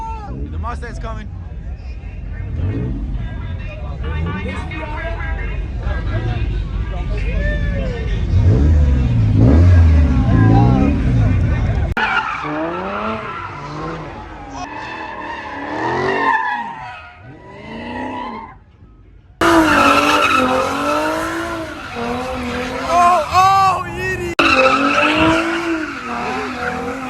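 At a Chicago street takeover, a Ford Mustang revs hard and skids with long squealing tires, loud and close, amid crowd hubbub and shouting voices.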